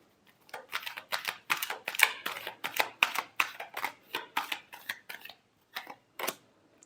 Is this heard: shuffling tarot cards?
yes